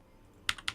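Two quick, crisp computer keyboard key presses about a fifth of a second apart, fairly close and alone after near silence, during a League of Legends session.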